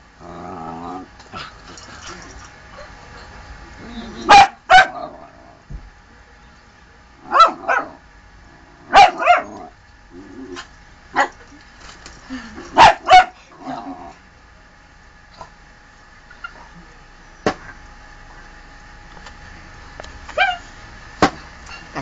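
A dog barks in sharp, loud bursts while fighting a chicken, with separate barks and growls spaced across a quiet background.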